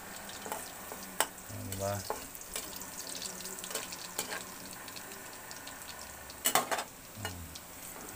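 Food frying in a pan while being stirred for halang halang, a steady soft sizzle with intermittent clinks and scrapes of the spoon against the pan, and a brief spoken word over it.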